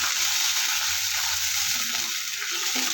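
A spice paste of garlic and other ground masala with a splash of water cooks in a pan for a taro and pangas fish curry, giving a loud, continuous bubbling sizzle with faint low stirring knocks.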